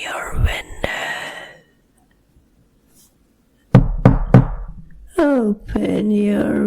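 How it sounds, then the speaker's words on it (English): Knocking on a window in a horror audio story: a few sharp knocks close by, set among whispered speech, with a quiet pause between the voice passages. "I am knocking at your window."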